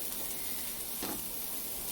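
Eggs fry in a stainless steel pan, giving a steady close hiss and crackle of sizzling with a brief louder burst midway, and no talking.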